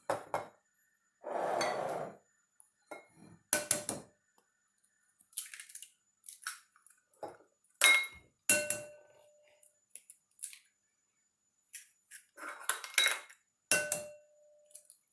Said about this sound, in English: we're going to crack eggs and sugar into this bowl